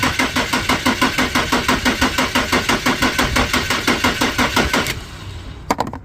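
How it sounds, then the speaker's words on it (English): Car engine cranking with power jumped straight to the starter, a loud close rhythmic chug of about four turns per second that keeps going without catching, then stops, followed by a couple of faint clicks. "I can start it manually with jumping power to the starter, which I do so like this"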